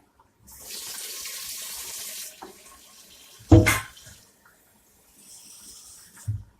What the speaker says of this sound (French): Je cherche un peu d'eau.